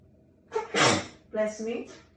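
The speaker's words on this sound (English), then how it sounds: "the seasonings are so intense that I'm sneezing" Two sharp bursts in quick succession, like a sneeze and a snorting breath, set off by intense seasoning on a mince beef filling, close to the listener and fairly loud.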